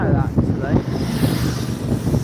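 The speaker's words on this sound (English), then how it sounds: "The wind has all of a sudden picked up to be really bad actually." Strong gusty wind buffeting the microphone at a seaside bus stop in Weymouth, a loud continuous rumbling roar with a voice talking faintly underneath.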